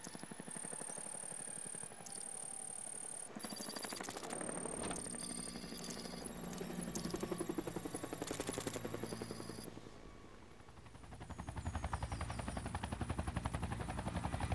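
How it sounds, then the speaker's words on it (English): A helicopter in the video game Batman Arkham Knight, a loud, continuous rotor thrum and engine roar with rapid chopping pulses that swell and dip, mixed with game music and effects. "Oh, helicopter."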